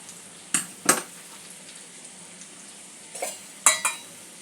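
Cauliflower and potato are stir-fried with spices over a low-to-medium flame. A faint, steady sizzle is punctuated by a few distinct spatula scrapes against the pan, some in quick pairs.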